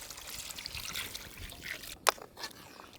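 Water trickles and pours into a pot of mutton biryani masala in a village-style kitchen, a soft steady stream with a brief sharper splash near the end, no talking.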